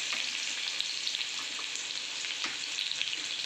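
Onion hits hot tempering oil and fries with a dense, even crackling sizzle that holds steady throughout, close up and with no voices.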